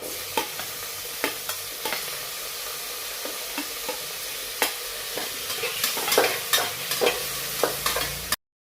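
Tomato and green chili frying with onion for khichdi, a continuous close sizzle broken by repeated sharp spatula scrapes and taps against the pan, getting busier toward the end.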